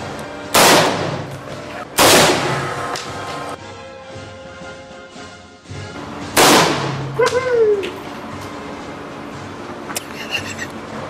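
A Saiga .223 Remington rifle fitted with a muzzle brake fires outdoors, four sharp, loud cracks at irregular intervals, each followed by a ringing echo, and a faint clatter near the end.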